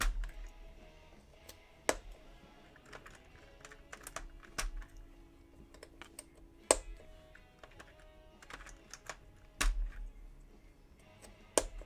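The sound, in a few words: typing on a Sho S60 keyboard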